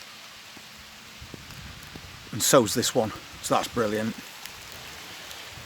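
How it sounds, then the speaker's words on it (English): Heavy rain falls steadily outdoors in a garden with potted strawberry plants, a constant wash of hiss beneath someone talking nearby. "Unfortunately that rain's coming down heavy again"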